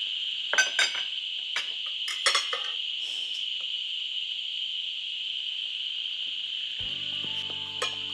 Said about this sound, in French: Et c'est quoi ce bruit-là? Les cigales?